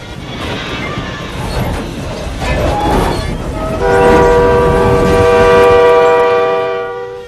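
A train rumbles past a level crossing loudly, then its horn blares in a long sustained chord that swells and holds before fading.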